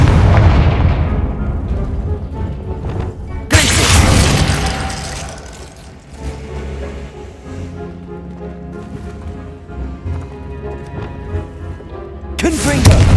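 Confringo blasting spells in Hogwarts Legacy go off as heavy booming explosions, two big blasts that ring out and decay, then a third at the end, loud against quieter game ambience.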